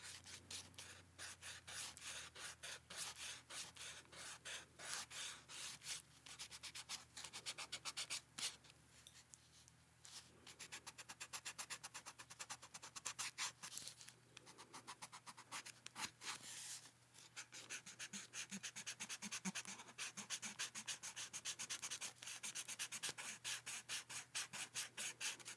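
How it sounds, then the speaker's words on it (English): An eraser rubs back and forth on paper while highlights are lifted from a pencil sketch, producing soft, close, continuous scratchy rasping strokes in quick rhythm, heard alone in a quiet room with no talk. "I am going to make some highlights in her hair with my eraser"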